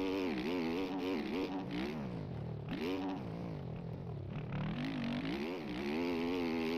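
A motorcycle engine in a video game revs up and down in repeated surges as the rider pulls a wheelie, with a steady whirring drone that keeps climbing and falling throughout.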